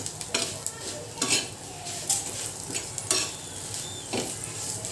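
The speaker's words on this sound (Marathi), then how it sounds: "चांगल्या प्रकारे भाजून घ्यायचं आहे हे बघा इथे मिरच्या भाजत असताना" Green chillies roasting in a hot pan, stirred with a utensil: a steady sizzle runs underneath while scraping strokes and clinks come at irregular intervals, close and moderately loud, with no talking.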